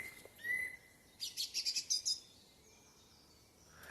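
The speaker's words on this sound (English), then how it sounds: "Listen to the birds." Birds in a Midlothian woodland in Scotland, one bird giving a short rapid series of bright chirps, with a single call just before it and faint whistles after, over a quiet background.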